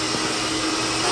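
An electric mixer beats cake batter made with egg whites, butter and flour, a loud, steady motor whir that runs through the whole brief moment with no talking.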